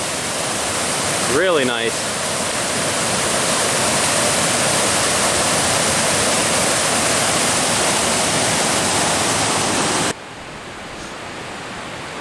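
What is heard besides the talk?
waterfall on Seneca Creek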